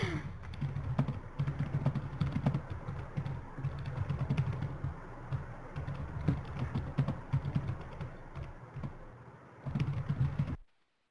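Keys on a computer keyboard tapped in a steady, fairly close run of clicks, broken by a few short pauses during an online webinar, with no talking over it.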